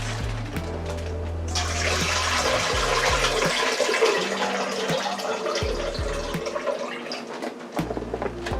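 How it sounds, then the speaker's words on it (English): Water from a pot of 8 to 9 cut-up carrots pours off, a steady rushing gush starting after a second or so and running loud and close for several seconds before tapering, alone, with a low hum beneath. "So let me pour the water off the carrots."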